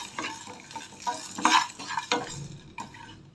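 Ajwain seeds roasting in a pan for rasam, with dry seeds scraped and stirred across the hot surface in uneven bursts, soft and near, and no voices.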